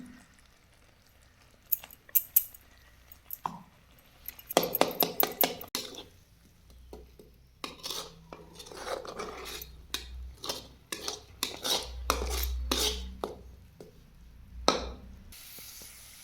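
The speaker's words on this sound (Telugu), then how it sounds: "ఇప్పుడు కొబ్బరి తీసేసుకుందాం, మిక్స్ చేసి పెట్టేసుకుందాం" Grated coconut is stirred into hot sugar syrup in a pan for coconut barfi, giving repeated scraping and clattering strokes of a spoon, some sharp and loud, others softer, with a brief hiss.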